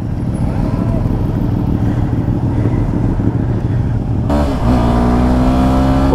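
A Ducati Panigale sport motorcycle at full throttle roars loudly and steadily near the microphone, then its engine note shifts abruptly into a higher, rising pitch.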